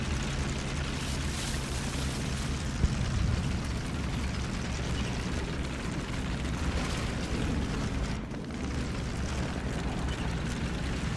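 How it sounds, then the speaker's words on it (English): Distant gunfire and explosions rumble in a War Thunder tank battle, a dense continuous wash of battlefield noise with muffled booms and no distinct nearby shots. "I can hear lots of gunfire from that way."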